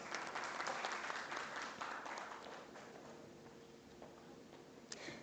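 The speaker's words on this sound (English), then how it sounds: "Please give a big round of applause." An audience at a business leadership conclave applauds a panelist, a dense, steady patter of many hands that starts full and gradually tapers off, heard alone without speech.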